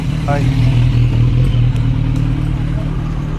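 A motorcycle engine runs close by with a loud, steady low rumble and a brief rise in revs near the start.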